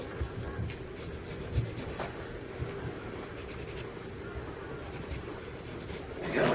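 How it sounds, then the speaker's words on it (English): A pencil sketches Tigger's eyes on paper with continuous close, soft scratchy strokes and light rubbing, steady throughout with a few slightly stronger strokes and no talking. "just going to sketch these out"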